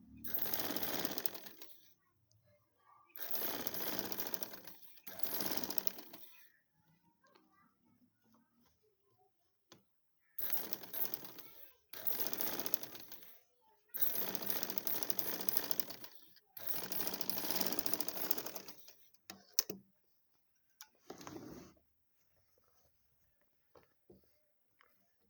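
A sewing machine stitches the shoulder seam of a gents suit in several loud, close bursts of rapid stitching separated by short pauses, with faint handling noises in between.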